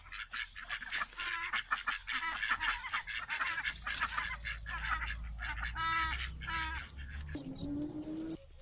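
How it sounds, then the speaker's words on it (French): Ducks in a garden quacking and honking in rapid, overlapping bursts close by, a busy chattering flock for most of the time, ending with a brief different tonal sound. "Bonjour les canards."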